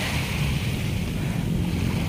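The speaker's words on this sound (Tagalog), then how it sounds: "Ayan yung ating dagat." Sea water at Manila Bay by the Baywalk Dolomite Beach, a continuous low wash of waves mixed with heavy wind buffeting the microphone, steady and fairly loud with no talk.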